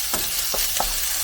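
Pork and potatoes stir-fried in a pan for a Japanese miso-paste dish, with three distinct scraping stirs over a steady background sizzle.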